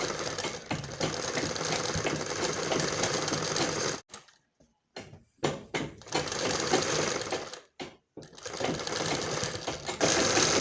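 Electric sewing machine stitching the front neck of a kameez, a loud rapid mechanical whirring run that stops briefly twice for a few seconds before restarting, close up with no talking.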